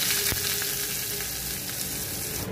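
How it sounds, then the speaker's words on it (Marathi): Hot tempering of mustard seeds and cumin with curry leaves and chopped chilli poured over cucumber for a Marathi koshimbir, giving a loud steady sizzle that fills the whole stretch, with no speech. "तयार झालेली चुरचुरीत फोडणी आता काकडीवर ओतूया"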